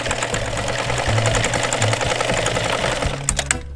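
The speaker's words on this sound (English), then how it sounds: "where I'm sewing down the pleats and encasing that side seam and hoping I don't hit the wire" A sewing machine stitching down the pleats of a fabric face mask, a loud, close, fast steady mechanical whir that slows and stops near the end.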